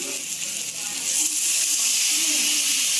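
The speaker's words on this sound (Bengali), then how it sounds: "হ্যাঁ, ভাজা হয়ে গেছে, এখন জল দিয়ে দেবো" Water is poured into a hot pan of fried garden eggplant and green beans, raising a loud, close hissing sizzle of steam that swells and holds steady.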